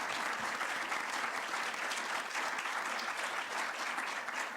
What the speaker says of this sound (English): may I just join me in applause and thank the panel